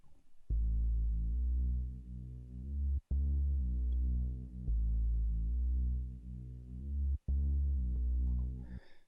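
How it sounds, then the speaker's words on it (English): A lo-fi house bass line with a re-space effect plays alone as a deep, sustained, throbbing synth bass. Long held notes are broken by brief gaps, and no voices are heard. "I'm just using this sort of re-space sound"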